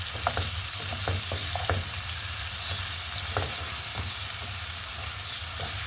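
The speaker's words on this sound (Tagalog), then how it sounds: "Kaya durugin natin yung kamatis para masarap." Vegetables sizzle and fry steadily in a pan for home-style ginisang gulay while tomatoes are crushed and stirred in, with scattered scraping and tapping over a constant close frying hiss, no talking.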